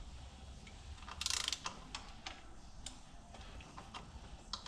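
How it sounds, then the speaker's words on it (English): A torque wrench clicks and ratchets while bolts are tightened to 21 foot-pounds on a 2004 Ford Escape 3.0 engine. Scattered mechanical ticks sound close and fairly quiet, with one brief louder burst of ratcheting. "I'm going to torque these down"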